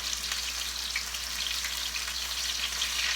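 Chicken strips frying in hot oil give a steady, dense sizzle with fine crackling throughout, fairly close and with no talking.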